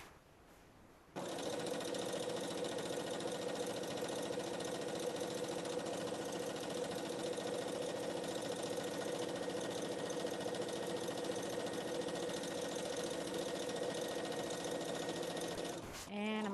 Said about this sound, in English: I'm just sewing up that last end